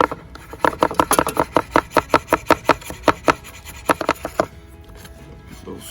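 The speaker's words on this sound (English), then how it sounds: "All right, got our garlic going here. Get her good and chopped up," A knife chops garlic finely on a wooden board, a quick steady run of crisp taps, about twenty close strikes, before the chopping stops and a quiet stretch follows.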